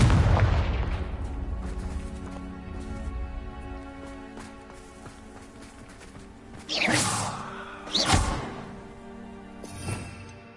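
Confringo blasting spells explode in the Hogwarts video game: a rumbling opening, then two sharp, loud blasts close together and a smaller one after, over a steady hum of game music.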